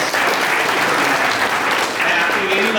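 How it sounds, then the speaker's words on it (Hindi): An audience at a college event applauds a student in a dense, steady burst of clapping, loud and close, with some voices mixed in underneath. "एक बार उस छात्र के लिए सभी लोग ताली बजा दें।"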